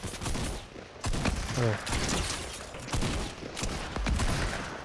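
Gunfire rattles in Fortnite, with bursts of shots from above echoing over a busy game soundscape, while players talk excitedly over the shooting.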